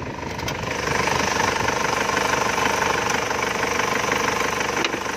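A 2005 Isuzu Hi-Lander engine idles up close, giving a steady, loud, knocking rattle that builds slightly at the start and holds evenly to the end.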